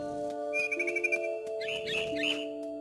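A mama bird in the What Remains of Edith Finch video game gives a run of quick, high chirps and warbling tweets, clear and close over a steady tonal drone of game music, with no one talking.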